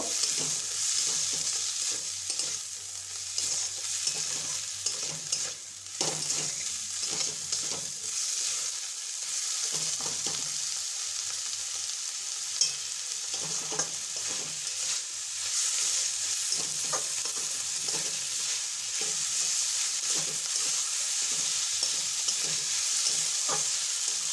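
A stuffing mixture seasoned with cumin powder is stirred steadily in a hot pan, with continuous sizzling and frying hiss under many soft spatula scrapes throughout.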